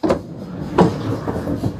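A DECKED storage drawer slides in the truck bed of a Dodge RAM 1500, giving a few hollow rumbling, scraping thuds of plastic moving on its runners, spaced out over a couple of seconds, close and fairly loud.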